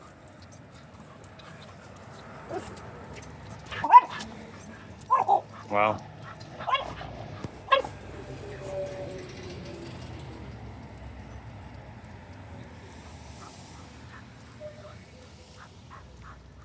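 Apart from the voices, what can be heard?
neighbours' dogs barking outdoors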